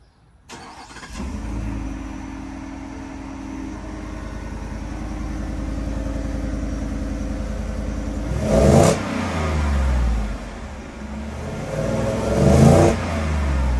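A 2021-2023 Ford F-150 pickup engine with an MBRP Installer Series dual rear exit aftermarket exhaust starts warm and idles with a deep, steady rumble, then revs twice in short, throaty bursts.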